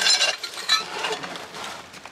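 Light ceramic clinks and clatters of cups being handled and set against each other in a garage, close and continuous, with no talking.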